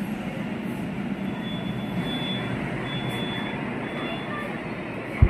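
A Kolkata underwater metro train pulls away from the platform with a loud, steady rumble of wheels and carriages, a faint high squeal running above it, and a sharp knock at the end.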